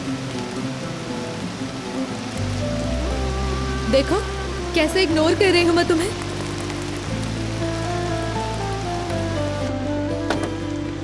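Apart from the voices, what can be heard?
heavy rain falling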